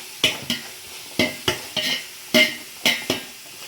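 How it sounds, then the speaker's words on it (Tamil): Onions and mint being stirred in a biryani pot: about ten sharp scraping strokes of a spoon against the metal pot, irregular and close, with a light sizzle in between. "நல்லா கிண்டி விடுறேன். நல்லா கிண்டி விட்டுக்கிறேன்."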